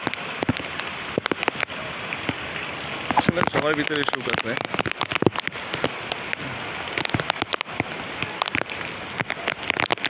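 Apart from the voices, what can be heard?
heavy rain in Dhaka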